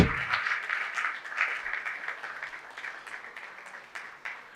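A conference audience applauds a plenary speaker, a steady crowd of hand claps that gradually loosens and softens as it continues.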